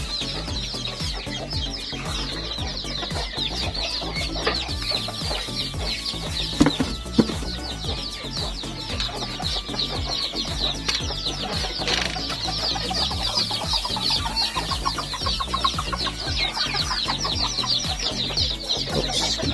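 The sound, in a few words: chickens clucking on a small farm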